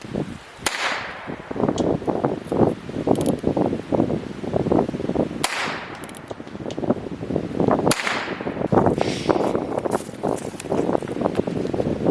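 Heritage Rough Rider revolver shots fired outdoors, a few sharp cracks spaced seconds apart over steady wind noise buffeting the microphone.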